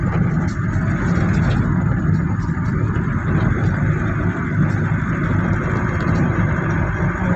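Steady engine drone and road roar fill the cabin of a Nissan Elgrand semi-electronic van driving along a road, loud and constant throughout, with no talking over it.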